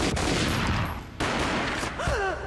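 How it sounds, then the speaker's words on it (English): Rapid bursts of gunfire from the video game Max Payne crackle loudly in two dense volleys separated by a brief gap, followed by a short whistling, ricochet-like sweep near the end. "This gunfire ends up happening"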